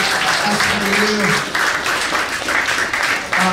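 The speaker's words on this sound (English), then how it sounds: "Let's get a big round of applause for our friend Jack." Applause from a comedy club audience at a stand-up mentalism show, a steady wash of clapping lasting throughout, with a voice talking over it.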